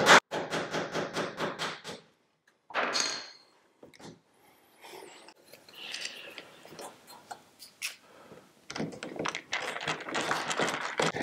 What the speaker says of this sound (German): Dafür haben die einen Stahlnagel dabei getan, den ich ansetzen kann und das Loch vorbohre